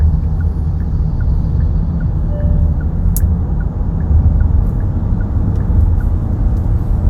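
A 2025 Kia Carnival accelerates, heard from inside the cabin as a loud, steady engine and road rumble that holds an even drone throughout.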